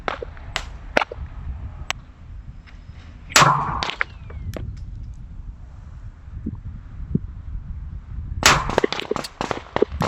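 Rifle shots fired at a 100-yard target in gusty wind, two sharp cracks several seconds apart over a backdrop of wind buffeting and faint rustling.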